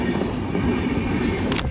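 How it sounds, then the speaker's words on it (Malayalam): A train pulling into a station in the rain, a heavy continuous rumble of rolling wheels and carriages close by, with a brief sharp hiss near the end. "ട്രെയിൻ വന്നിരിക്കുകയാണ്."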